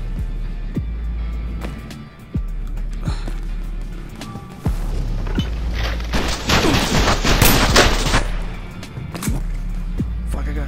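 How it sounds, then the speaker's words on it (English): Gunfire in the VR shooter Stride, with sharp repeated shots at intervals and a dense burst of rapid firing in the middle, loud over steady game sound. "I got shot"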